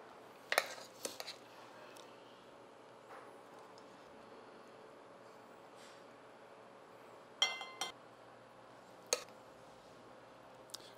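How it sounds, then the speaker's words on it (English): Mushroom risotto being spooned onto a plate, heard as a few sharp clinks of a metal spoon against the dish, spaced out over quiet room background. "It's time to spoon it out."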